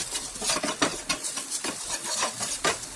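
Spices (turmeric, red chili powder, garam masala and salt) being stirred into wheat flour in a bowl, giving a steady close scraping and rustling with soft rhythmic strokes and no talk.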